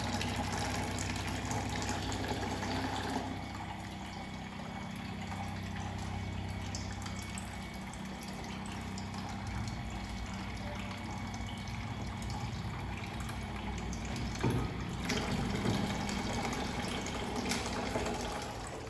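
Running water from a Kangen water machine tap dispensing 9.5 pH alkaline water, a steady continuous gush and splash with a low pump-like hum, fairly quiet and constant throughout with no talking.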